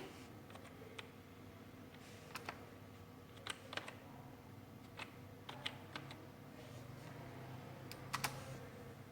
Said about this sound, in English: Now I type these lines: little bride,